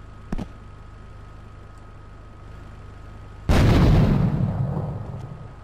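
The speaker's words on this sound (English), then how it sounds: "It only took three nades." A grenade blast in the video game GTA III, a sudden loud booming burst that rumbles and slowly fades over a couple of seconds, preceded by a short faint thud.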